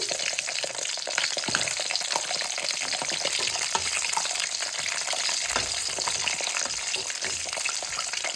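Brinjal slices fry in a little oil for bajji with a dense, continuous close sizzle and crackle that holds steady throughout, with no voices.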